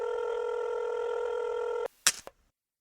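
Telephone call-back audio from a radio studio: a long, steady electronic line tone holds for nearly two seconds, then cuts off into a few sharp clicks, fairly quiet overall.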